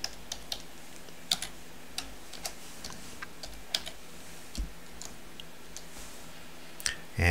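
Typing a street address on a computer keyboard: a quiet, irregular run of light key clicks with brief pauses, close and alone.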